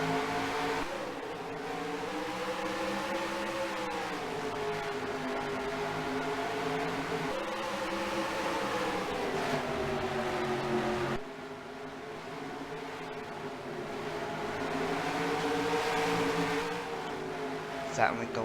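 Race cars roar through a 40-lap All-Star Open at Eldora, a steady loud engine drone with shifting harmonic pitch as cars pass, continuous under commentary voices throughout.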